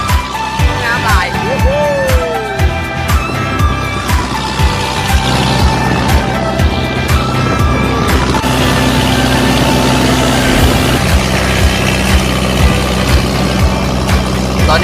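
Boat engine droning steadily while cruising on the Nam Ngum reservoir in Laos, a loud, continuous low rumble with a rhythmic thumping undertone that persists for the whole stretch without letting up.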